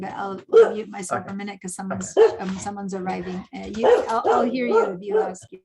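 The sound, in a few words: dog barking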